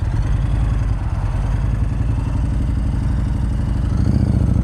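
A motorcycle rumbles steadily at low speed, its engine close and loud with an even, pulsing idle-like throb throughout.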